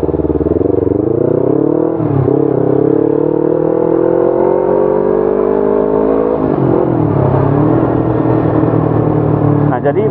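Yamaha R25 250 cc motorcycle engine running while riding, a steady droning note that rises with throttle, dips briefly around gear changes, and continues loud and constant throughout, with wind rush underneath.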